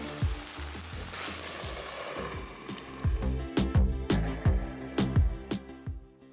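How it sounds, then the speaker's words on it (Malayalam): Chicken and raw banana roasting in a hot pan, a steady loud sizzle with repeated scraping strokes of a spatula stirring the pieces, growing more rhythmic toward the end. "നന്നായി മിക്സ് ചെയ്തതിന് ശേഷം ഒരു 5 മിനിറ്റ് നമുക്ക് അടച്ചു വെച്ച് വേവിക്കാം."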